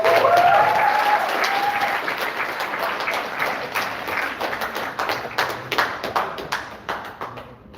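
Sustained audience applause fills an achievers' meet event hall, loud at first and holding steady, with denser clapping swelling near the end before fading out.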